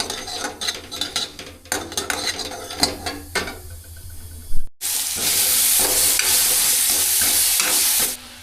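Clanking stirring in a wok, then a loud, steady sizzle of a dal tempering frying in hot oil that fills the second half.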